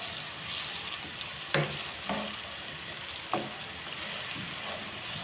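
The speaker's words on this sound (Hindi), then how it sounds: "अच्छे से मैं करूँगी इनको फ्राई।" Onions, chopped green chillies and garlic fry in oil in a pan with a steady, soft sizzle, and a few light scraping stirs come through close by.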